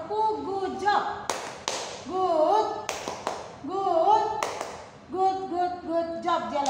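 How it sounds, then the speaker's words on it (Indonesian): Children in an Indonesian classroom clap a rhythmic good-job cheer, several sharp claps in a patterned beat mixed with singing voices and a teacher's talk, loud and close throughout. "Oke, berikan tepuk good job buat Jelo."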